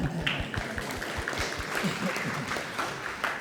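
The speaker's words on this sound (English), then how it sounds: "Let's give Tina and Megan a round of applause." An audience at a university senior breakfast claps for two people, a short round of applause with a few distinct claps standing out near the start before blending into a steady patter.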